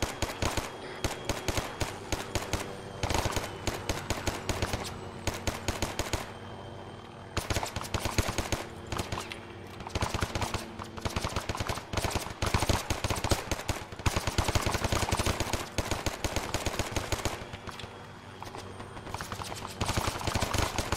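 Airsoft guns firing during a skirmish game, sustained rapid bursts of crackling shots that continue almost nonstop, with brief gaps between volleys and distant overlapping fire.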